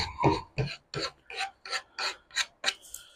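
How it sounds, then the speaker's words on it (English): A fishing rod holder rubbed by hand with sandpaper, nine even rasping strokes in a steady back-and-forth rhythm, close and fairly quiet with no talking. "Take a little sandpaper here and just rub it right around."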